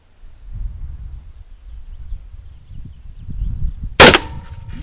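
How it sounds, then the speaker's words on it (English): A single sharp, loud crack from an Uberti 1860 black powder revolver firing outdoors, with a short ringing tail, comes after several seconds of low wind rumble and rustling. "Let's see if it'll fire this time."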